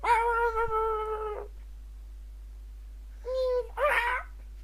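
A domestic cat meows loudly and close by in two separate bursts, a drawn-out cry and then a shorter pair of calls after a quiet pause, with a low hum underneath.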